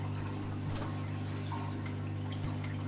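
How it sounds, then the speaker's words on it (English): RO water being siphoned into a section of an aquarium sump, a faint trickle and occasional drips over a steady low electrical hum. "I brought 20 litres of RO water from the shop, and I'm just going to siphon it straight into this section"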